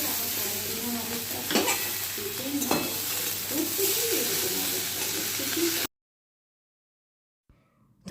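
Prawn curry stirred and frying in a home kitchen pan, a steady sizzle with scraping stirs for about six seconds, then abrupt silence; birds coo faintly in the background.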